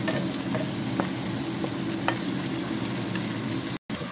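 Vegetables including beans, capsicum and chayote frying with onions in a pan for bhuna khichuri, a steady close sizzle broken by occasional stirring scrapes and a brief dropout near the end.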